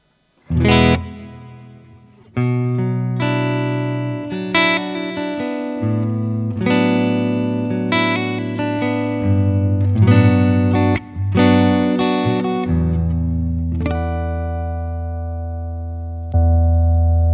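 Gretsch Electromatic 5422TG electric guitar plays sustained chords and melodic notes, rich and loud, with a spacious reverb wash letting each chord ring and blend into the next.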